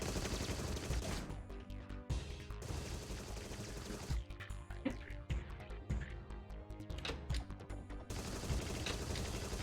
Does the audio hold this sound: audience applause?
no